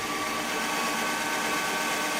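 A power drill with a 7/32 bit bores through a template into an engine mount, giving a steady, loud, unbroken whir that stays at one pitch from start to finish.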